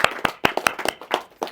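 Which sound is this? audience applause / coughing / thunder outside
audience applause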